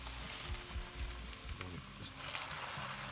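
Fresh spinach sizzles steadily in a hot pan with cracked black pepper while being stirred, giving a constant crackling hiss with a few soft scraping knocks from the stirring and no voices.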